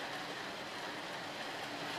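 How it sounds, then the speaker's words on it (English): Rain drums steadily on the tin roof of a bus, a dense, even hiss of patter that runs alone without a break or any voices. "That's the one thing I like is the sound of rain on a tin roof."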